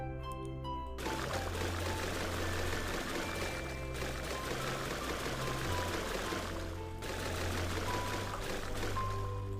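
Water filling in to form a small lake with the water tool while building in The Sims 4, a steady pouring, trickling game sound effect that holds at an even level with a short dip partway through.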